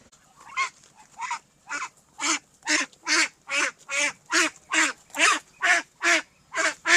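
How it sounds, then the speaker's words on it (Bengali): A flock of Chinese ducks gives a rapid run of about a dozen loud, harsh, honking quacks in steady rhythm. The calls are close, arrive one after another and come with no talk. "এই যে দেখেন এইখানেই বসে আছি অনেক হাঁস এই যে আমার চতুর্পাশে"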